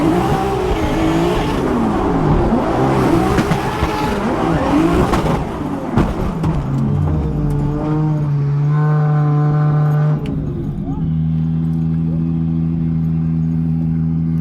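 A Formula Drift car works through a slow transition on track, engine droning loud and steady with tires scrubbing, then settling into a sustained constant engine tone toward the end.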